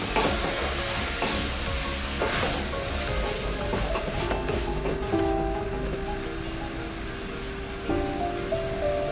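Green peas tip into a hot pan and sizzle steadily while being stirred, with scraping and clinking of the spoon throughout and a few faint tonal squeaks from the pan, close and continuous.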